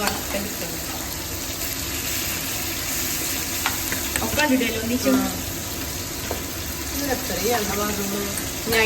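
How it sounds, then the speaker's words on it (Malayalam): Continuous sizzling and crackling of hot oil runs throughout while someone talks over it. "എണ്ണ ഒന്ന് ചൂടാവട്ടെ നമ്മൾ വറുത്തെടുക്കണം"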